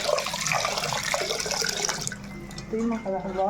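Water gushes and splashes steadily into a vessel of washed rice, three glasses poured, the pouring changing in tone toward the end as the level rises.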